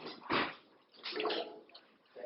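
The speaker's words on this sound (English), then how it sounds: "Sometimes you have to drizzle water down the inside." Water drizzles down the inside of a tall clay cylinder on a spinning pottery wheel, heard as soft wet splashes and trickles in a few short bursts, fairly quiet overall.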